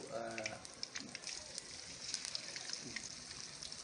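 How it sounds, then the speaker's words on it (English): Silver dollar fish pieces deep frying in hot oil for Hyderabadi fried fish, a steady close sizzle and crackle with a faint voice murmuring underneath. "deep fry"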